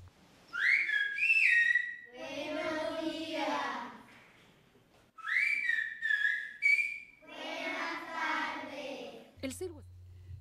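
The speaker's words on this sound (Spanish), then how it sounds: "En la sorprendente región de las Islas Canarias, se les enseña desde pequeños a sus habitantes a conocer el lenguaje del silbido." Canary Islands whistled language: piercing, melodic human whistles rising and gliding in two phrases, each followed by a stretch of voiced talk, close and clear.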